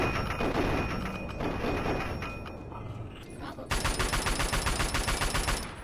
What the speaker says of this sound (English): And there goes all the ammo in this gun.